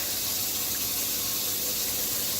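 Warm water running from a tap to top off a zebrina houseplant, a steady broadband hiss of flow, fairly close and continuous, with no talking.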